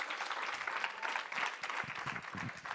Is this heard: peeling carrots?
no